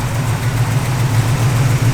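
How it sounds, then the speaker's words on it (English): A 1971 Chevrolet Nova SS engine idles through dual exhaust with a deep, steady rumble, loud and close, holding an even low drone throughout. "Dual exhaust."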